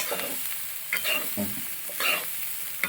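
Bitter gourd and dried prawn thoran is stirred in a pan, with a spoon scraping and turning the pieces in short bursts over a steady low sizzle, close and alone.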